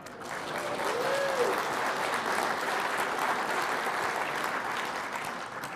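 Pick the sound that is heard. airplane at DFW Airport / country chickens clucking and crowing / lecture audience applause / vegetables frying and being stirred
lecture audience applause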